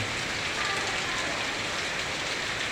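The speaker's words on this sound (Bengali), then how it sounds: "নীরব নিঝুম বৃষ্টি।" Steady, even monsoon rain hissing continuously over a village school field, a dense wash of drops with no voices and no pauses.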